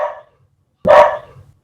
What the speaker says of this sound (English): there are dogs barking in the background